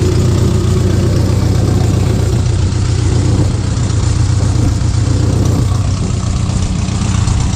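A 1964 Fiat 600D with a 767cc engine idling, a loud, steady, close rumble that runs without pause throughout, with no notable revving.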